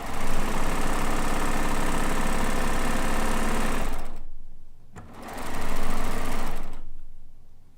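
A Euphoria sewing machine stitches quilt blocks with a loud, close hum for about four seconds, then stops briefly and runs again in a shorter burst.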